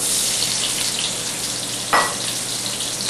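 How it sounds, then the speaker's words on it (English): Green pepper sears in a hot pan with a continuous close sizzle, broken by a sudden louder crackling burst partway through before settling back into steady frying. "We're going to saute those for just a couple minutes or a couple seconds."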